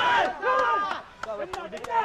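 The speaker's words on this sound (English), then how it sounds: "The home crowd cheering on" Home crowd cheering at a Sri Lankan rugby league match, Kandy SC against CH & FC, with a steady roar of many voices that swells and dips, broken by sharp shouts and whistles.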